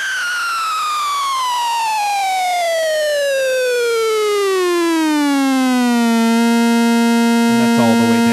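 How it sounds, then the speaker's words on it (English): A 3xFx Fatman synthesizer oscillator drones alone, a loud harmonic-rich tone gliding steadily downward from high pitch and then holding a low steady note, with faint clicky flutter at the end. "I'll just do that again without playing so you can hear the oscillator go."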